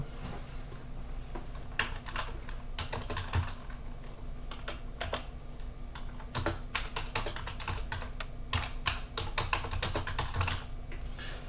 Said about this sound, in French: on va taper notre texte